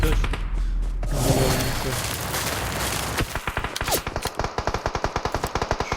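Rapid automatic gunfire in PUBG Mobile hammers out in a fast, evenly spaced burst after a few seconds of quieter in-game noise, close and loud.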